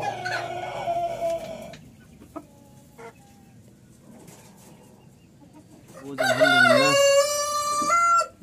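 Ornamental chickens of various ages on a farm, with scattered clucks early on and a loud, harmonic rooster crow rising near the end, close to the recorder.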